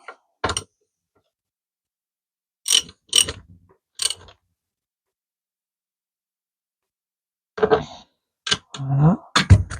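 A socket wrench works loose a nut on a mini gearbox, giving short bursts of ratcheting clicks separated by silence, close and crisp, with a longer run of clicking toward the end.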